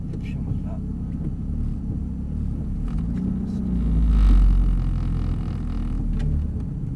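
A Ferrari F430 pulls away in first gear, a deep engine rumble that swells for a moment as it builds revs, heard from inside the car with a French-speaking voice over it.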